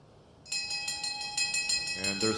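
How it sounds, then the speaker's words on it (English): Bell rung to signal one lap to go in a track cycling race at a masters world championships, a bright rapid ringing clang that starts suddenly and continues steadily, carrying over crowd and arena ambience. "There's the bell signifying 1 lap to go."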